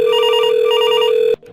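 A VoIP desk extension rings during a test call, a loud electronic telephone trill repeating in quick warbling bursts, then cutting off abruptly.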